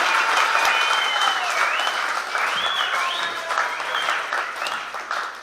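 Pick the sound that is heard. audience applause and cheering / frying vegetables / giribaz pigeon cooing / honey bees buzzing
audience applause and cheering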